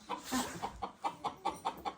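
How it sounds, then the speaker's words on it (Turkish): Chickens clucking in a village yard in Gümüşhane, Turkey, a rapid series of about nine close, moderately loud clucks in steady rhythm with no talking. "Ha, tavuk da var ya burada."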